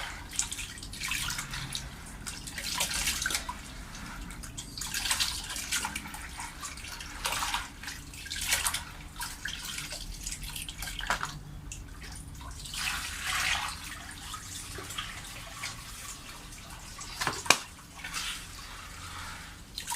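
Running water swishes and splashes as sand is rinsed in a container before planting bulbs, a steady hiss with repeated surging pours and drips over the full stretch, with no speech.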